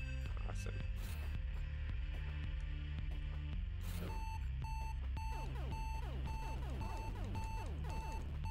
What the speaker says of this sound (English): Does sound like an alarm going off